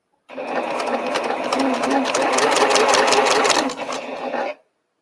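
A sewing machine stitching flying geese quilt blocks runs in one steady, fast whirring burst of about four seconds, close and loud, starting and stopping abruptly.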